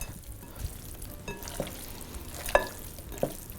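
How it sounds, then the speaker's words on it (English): Raw beef is stirred and tossed with oil, pepper and salt in a bowl, giving soft, wet squelching and sticky mixing sounds with a few light clinks, close up and fairly quiet. "Now we're gonna mix this up and try to evenly coat the beef with the oil, the pepper, and the salt"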